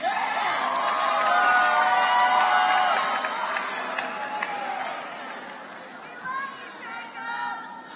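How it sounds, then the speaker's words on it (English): An audience at a conference opening plenary claps and cheers in a dense, sustained burst of applause with crowd chatter mixed in, thinning out toward the end as a few voices carry over it. "Let's give a round of applause for the documentation team."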